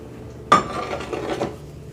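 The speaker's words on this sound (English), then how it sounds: "I'm gonna toss this into a 8-inch large cast iron pan." Food tossed into an 8-inch cast iron pan lands with one sharp metallic clank, followed by a brief soft scraping and shuffling as it settles, close up and alone.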